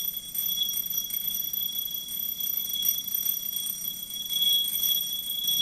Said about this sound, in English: as the air goes back into the bell jar, the electric bell is getting louder